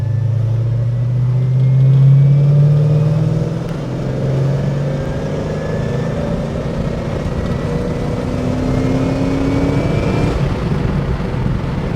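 A 1978 Aston Martin V8 Vantage accelerating at full throttle from third gear at low revs, a loud, close engine roar that climbs steadily in pitch and carries on throughout, heard from inside the car.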